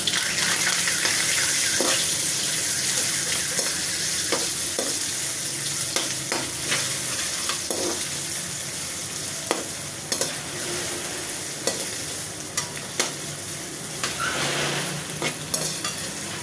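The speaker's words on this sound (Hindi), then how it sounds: "प्याज को ज़्यादा ब्राउन नहीं करेंगे क्योंकि हमने वाइट चावल बनाने हैं" Onions frying in ghee in a kadhai, a steady loud sizzle running throughout with occasional stirring scrapes and clicks, no voices.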